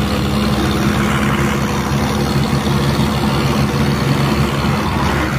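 A heavy diesel Arjun 605 tractor engine, in second gear hauling a loaded trolley up a slope, drones steadily and loudly up close, a constant low rumble that labors without letting up.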